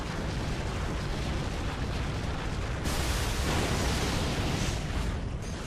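Explosion in the video game Bayonetta, a dense, sustained rumbling roar that swells midway and fills the whole clip with no talk.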